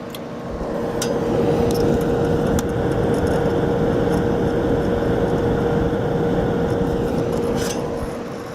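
A server hard drive with shipping damage struggles to spin up, giving a steady low motor hum with a faint whine that holds for several seconds. Occasional light clicks sit over it, and no one talks.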